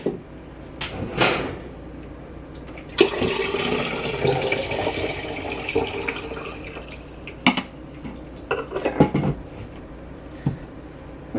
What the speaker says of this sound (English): Refill the water tank